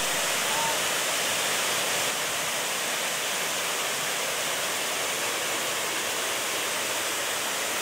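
Steady roar of the Mu waterfall in Hoa Binh province, a broad continuous rush of falling water, loud and unbroken throughout with no voices over it.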